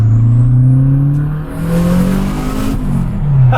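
A Renault 5 Turbo 2's engine pulls hard while driving, loud and raspy from inside the car, with revs swelling, dipping briefly and climbing again across the clip.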